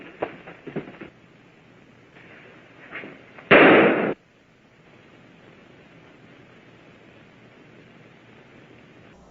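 One sharp, loud gunshot blast in the film Reefer Madness bursts out mid-clip, preceded by a few softer pops and followed by quiet hiss.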